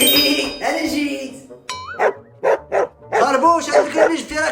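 A dog gives several sharp, close barks in a quick cluster amid lively conversation, with people talking before and after the barking.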